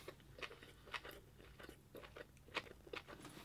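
Crunchy fancy sushi chewed up close, with several sharp crisp bites and crunches in an uneven rhythm over a low background hum, and no talking.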